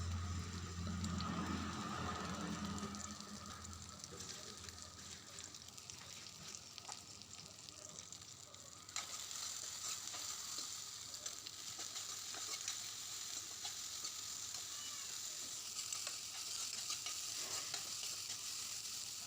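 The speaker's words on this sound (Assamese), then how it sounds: "এতিয়া চয়াবিনটো ভালদৰে ভাজি ল'ব লাগিব।" Soybean chunks fry in oil in a kadai, with a steady, close sizzle and crackle throughout, plus occasional stirring scrapes and no talking.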